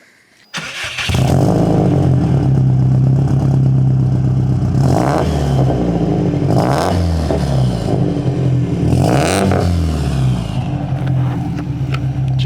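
A 2003 JDM Subaru STi engine fires up and runs loud and close, with a steady rumbling idle and several rising revs as it pulls away on a drive.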